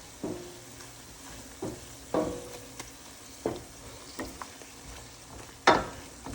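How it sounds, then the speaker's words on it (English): A spoon scrapes and pushes onions through a blended shrimp creole mixture in a pan over low heat, giving irregular clacks and swishes over a soft, low sizzle, with no talking. "we'll start slowly mixing in with these onions"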